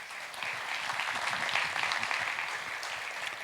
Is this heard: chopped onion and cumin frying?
no